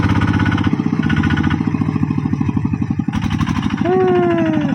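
A motorcycle engine revs up close, a loud pulsing mid-pitched throb rising and dropping in bursts, with a sharp high whine near the end.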